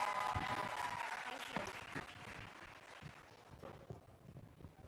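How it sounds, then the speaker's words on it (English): Applause from an audience at a corporate annual event, welcoming a speaker onto the stage; steady clapping with scattered voices, gradually thinning out over about five seconds. "With huge round of applause."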